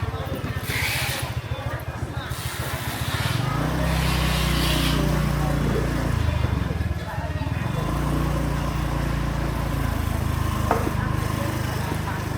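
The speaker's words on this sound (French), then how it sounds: "On rentre carrément à l'intérieur du marché avec la moto." A motorcycle engine drones steadily as it rides right into the Sangker market, a close continuous motor hum with some rattling and faint background bustle.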